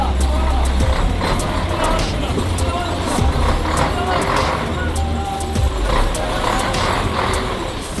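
Trucks and cars grind along the rough mountain road of the Karakoram Highway, with a deep, continuous engine rumble and scattered rattles and clicks close by, while voices seem to talk over it.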